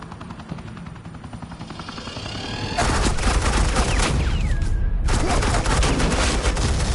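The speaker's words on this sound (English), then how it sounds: "Suppressing fire." Sustained heavy suppressing gunfire in the Telltale Batman game scene. A dense, continuous rattle of automatic weapons fire grows louder and stays intense throughout, with a brief whine or whistle passing partway through.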